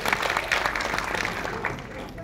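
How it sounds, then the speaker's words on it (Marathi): A crowd at a community unity ceremony claps steadily and densely for the whole stretch, fairly loud, with a voice faintly mixed into the applause. "पुन्हा एकदा जरा जोरदार जोरदार टाळ्या द्या"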